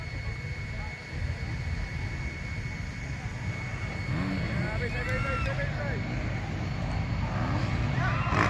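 A 50cc motocross bike at a race in Brgy. Bantigue, Ormoc City, Leyte drones steadily in the distance, a continuous engine whine under crowd noise and speech from people nearby.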